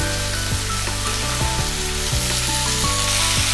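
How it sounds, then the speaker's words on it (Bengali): Vegetables for khichuri fry in a pan with a steady, loud sizzle. A low mechanical hum runs underneath, and no one speaks. "এই যে সবজিগুলো ভাজা হবে এর মধ্যে আমি মুগের ডাল আর ছোলার ডালটাকে একসাথেই দিয়ে দেব"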